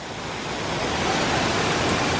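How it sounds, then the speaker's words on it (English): Waterfall rushing in Pandora at Disney's Animal Kingdom at night, a steady broadband wash of falling water that swells slightly louder, continuous and fairly close, with no talking. "the sounds of the winds and the waterfalls"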